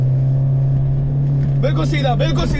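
Dune race vehicle engine held at full throttle, a steady loud drone with a constant tone, with someone talking over it in the latter part.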